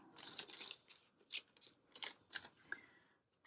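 Scissors snip through paper in a series of short, quiet cuts spaced irregularly over a few seconds, close by with no talking.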